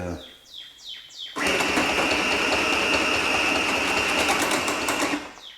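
A Singer M1000 sewing machine makes a few brief whirs and ticks, then breaks into a loud, sustained mechanical rattle for several seconds as it jams, before cutting off.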